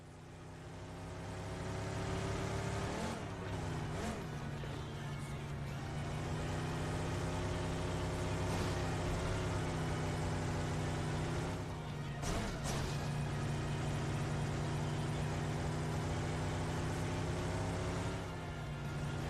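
A car engine drones continuously in the PUBG Mobile game, rising and falling in pitch as it drives, with a couple of sharp thumps and a voice talking over it.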